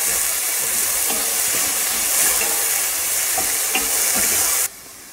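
Salted onions sautéing in a pan, a loud, steady close-up sizzle with occasional stirring clicks, cutting off abruptly near the end.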